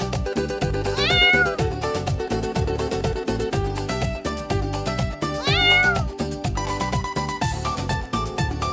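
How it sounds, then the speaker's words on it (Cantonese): Two rising meows from a cat sound in a large pet supply store, one early and one later, set against loud rhythmic background music. "貓貓都嚟 shopping 啊！"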